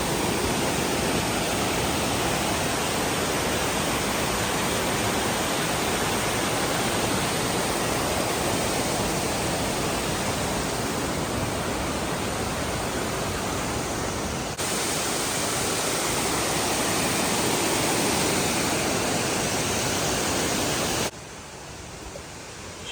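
Amicalola Falls in Georgia roars as a dense, steady rush of falling water, loud and close, continuous broadband hiss that softens slightly near the end.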